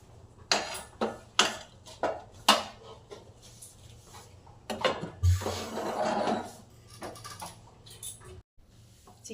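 A metal lid is set onto a cooking pot of simmering chicken, giving a run of sharp, close clanks and knocks followed by a short scraping rustle and a quiet pause.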